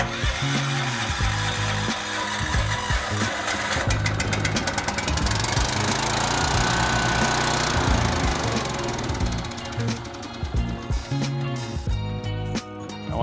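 A Ridgid generator engine with a gas leak from the air filter cranks and runs, a loud, rough, continuous engine drone with sputtering and uneven bursts throughout, ending in a harsher rattle near the close.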